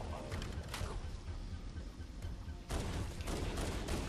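Sustained assault rifle fire in the video game Halo Anniversary, a dense, loud stream of rapid shots that runs the whole time and swells louder near the end, with no speech over it.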